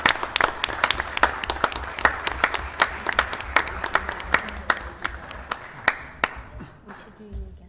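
A small council meeting audience claps after a council member takes the oath of office: sparse, distinct handclaps close to the microphone, loosely spaced at first and thinning out toward the end, with a few murmured voices underneath.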